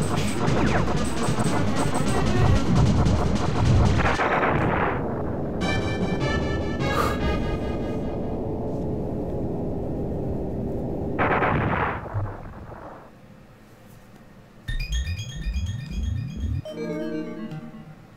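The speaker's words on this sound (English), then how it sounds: "Dodging them, and everything else that he is shooting." Laser blasts and explosions from the Star Fox video game, loud rapid retro-style shots and booms followed by sweeping synthesized tones and electronic effects.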